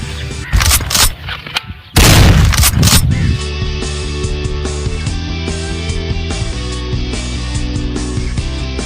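Gunshots in a Sindhi drama scene: two loud, sharp bursts of gunfire close together near the start, followed by a steady backing of dramatic music.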